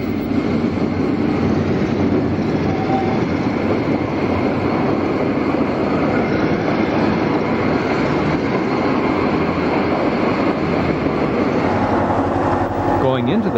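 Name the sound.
train locomotive approaching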